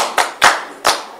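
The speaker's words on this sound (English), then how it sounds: "Let's give him a round of applause." Three sharp hand claps about half a second apart, close and crisp, from children clapping in rhythm at a creche, nursery and primary school.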